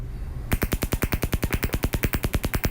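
A SciAps Z handheld LIBS analyzer fires its laser at unprepped scrap metal. After a brief low hum, a fast, steady train of sharp snapping pulses, about eight per second, rings out close and loud.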